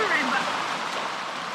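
Steady rain pours down on a dark, stormy night outdoors, soaking everything, a continuous dense hiss with a faint voice briefly audible near the start.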